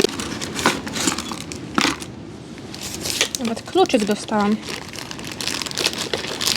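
Plastic packaging crinkles and rustles in bursts as a parcel ordered from a Chinese site is opened, close by, with someone speaking briefly over it.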